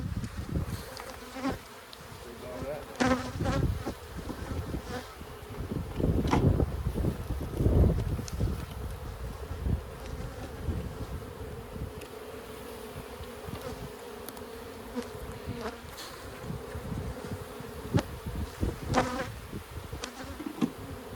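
Honey bees swarm at an abandoned hive outdoors, making a steady close drone with wind buffeting the microphone and occasional thumps and knocks from handling.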